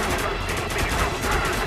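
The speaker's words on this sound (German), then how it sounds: "Wir sind schwer unter Beschuss." Dense gunfire from the shooter game Spec Ops: The Line, a rapid, continuous fusillade of overlapping shots that fills the short stretch at steady loudness.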